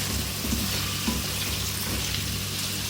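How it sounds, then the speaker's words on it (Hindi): Chopped garlic fries with potatoes and onion in a pan for aloo methi sabzi, a steady close crackling sizzle with occasional stirring scrapes, no voices. "अब इसको फ्राई करेंगे आलूओं के साथ, तीनों चीज़ों को।"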